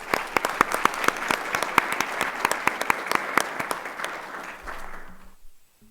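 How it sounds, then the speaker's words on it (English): An audience at a Board of Education meeting breaks into applause, with a dense spread of clapping and some sharp individual claps standing out, the sound thinning and stopping near the end. "we can give her a round of applause"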